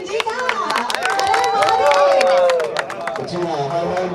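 A loud, enthusiastic crowd claps and cheers on stage to welcome actor Ravi Kishan at a Bhojpuri cricket league event, with a tonal announcer's voice or music running over the steady clapping.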